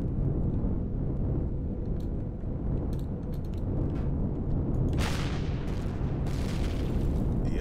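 Explosion in the space survival game Empyrion Galactic Survival, a continuous roaring rumble of blasts and booms with bright crackling bursts near the end, loud and dense without speech.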